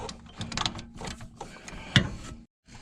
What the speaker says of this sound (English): we're going to put them in with a socket wrench until she catches